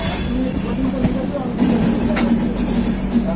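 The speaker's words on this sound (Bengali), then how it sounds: "আমাদের ট্রেন পুরি ছেড়ে এগোচ্ছে।" Dhauli Express passenger train moving, heard from inside a third AC coach, a steady rumbling drone with a low hum and rhythmic wheel clatter, with a voice talking over it.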